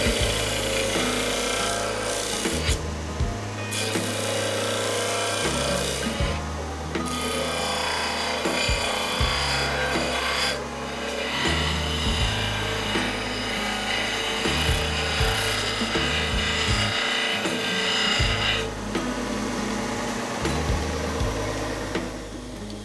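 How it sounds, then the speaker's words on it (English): A disc sander shapes a wooden piece with a continuous motor drone that shifts in pitch as the wood is pressed against it, under steady rasping and grinding across the whole stretch. "we're going to probably use a little bit of chisel work and the disc sander"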